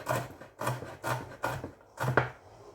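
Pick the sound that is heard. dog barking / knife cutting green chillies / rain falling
knife cutting green chillies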